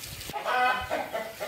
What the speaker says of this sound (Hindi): इसमें कुछ मुर्गे हैं, मुर्गियाँ अंदर हैं।